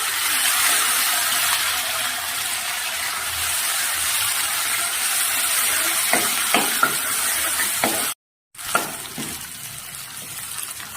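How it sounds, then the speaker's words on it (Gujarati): Garlic chutney sautés in a pan with a continuous loud sizzle and a few spoon scrapes near the end, broken by a brief gap of silence. "સારી રીતે આપણું લસણની ચટણી જે છે એ સંતળાઈ ગઈ છે."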